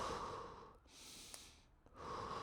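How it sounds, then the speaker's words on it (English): A runner standing still takes slow, deep breaths close to the microphone, two long audible inhale-exhale cycles with brief pauses between them. "Let me take a few deep breaths."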